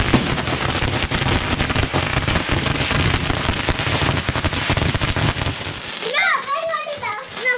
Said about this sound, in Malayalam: പടക്കം പൊട്ടട്ടെ